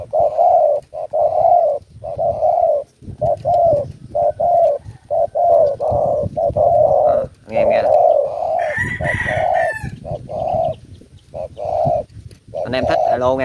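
Birds in a cage cooing repeatedly and loudly at close range, steady rhythmic coo phrases with short pauses, overlapped midway by a higher crowing call.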